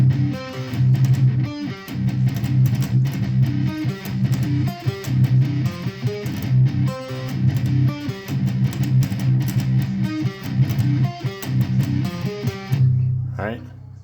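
A heavy distorted electric guitar plays the triplet-driven intro riff of a metalcore song, dense and loud, with chugging palm-muted rhythm throughout and a pick slide near the end.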